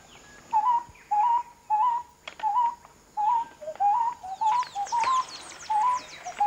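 Pet parrots call at dawn in a Wayana camp by the river, a run of repeated whistled calls in a regular rhythm, clear and fairly close, joined near the end by busier chirping.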